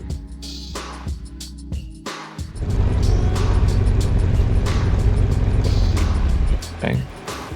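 A car engine in the Car Mechanic Simulator game, peak torque near 5,300 RPM, revs up after a few short blips and holds a loud, steady high-rpm drone for several seconds before dropping off, with brief speech at the start.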